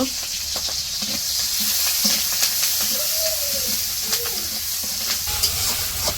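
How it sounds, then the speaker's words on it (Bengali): Steady hissing sizzle of onion and green chilies frying in hot oil in a wok, close and loud, with occasional scraping stirs and a faint voice in the background. "কড়াইয়ে তেল দিয়ে পেঁয়াজ কাঁচা মরিচ দিয়ে দিল"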